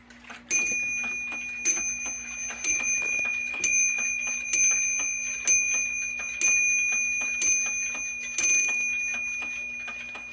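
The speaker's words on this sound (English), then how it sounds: "that is a pretty loud bell" A J.B. Marand clock strikes a loud bell, eight ringing chimes about one second apart, each bright and sustained with a decaying ring, with a faint steady hum underneath.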